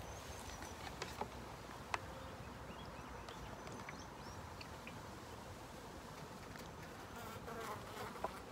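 Honeybees buzzing around a hive where lighter nucleus colonies are being fed syrup from a small gallon container placed inside; a steady, dense hum runs throughout, with a few sharper passes of individual bees flying close by.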